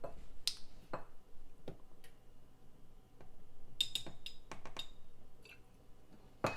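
A spoon stirs sesame oil and rice vinegar sauce in a small dish, giving sharp, scattered clinks and taps against the bowl at irregular intervals over a quiet background.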